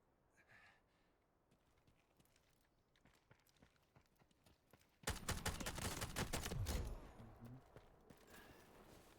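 Rapid gunfire bursts in the shooter game Delta Force, sparse faint shots early on, then a loud sustained fusillade of close shots for about two seconds before trailing off into quieter scattered sounds.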